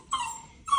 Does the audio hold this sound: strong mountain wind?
no